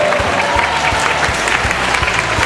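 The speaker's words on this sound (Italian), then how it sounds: "un applauso" Audience applause at an event in a sports store, loud and sustained dense clapping from a crowd close by, with a few sharp individual claps standing out.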